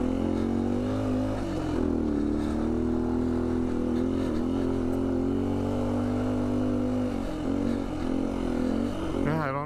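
Engine of a 2019 Beta 125 RR-S dirt bike fitted with a 150cc Yamaha big bore kit, droning steadily under sustained throttle on a trail, close and loud throughout with slight pitch shifts near the end.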